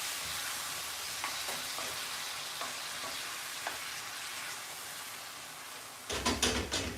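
Tomato sauce with guanciale sizzles and simmers steadily in a pan, with scattered light scrapes as it is stirred, then a burst of louder, rapid scraping and clatter from the spoon near the end, with no voices.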